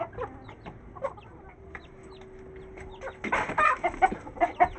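Chickens and a rooster cluck on a rooftop where chicks have been brought up. Scattered soft clucks come first, then a louder burst of busy clucking and squawks nearby. A faint steady hum sits underneath, and no one speaks.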